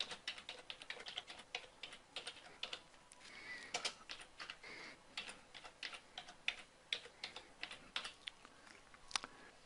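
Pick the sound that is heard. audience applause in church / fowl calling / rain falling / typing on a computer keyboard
typing on a computer keyboard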